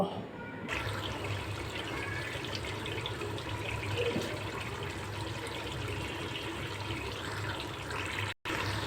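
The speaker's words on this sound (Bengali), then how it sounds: "ঝোলের জন্য পানি দিয়ে দিচ্ছি।" Water is poured into a pot of chicken curry to make the gravy, a soft continuous splashing and trickling that holds steady throughout with no talking.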